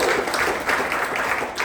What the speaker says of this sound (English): round of applause for the ones who have been here before and the newbies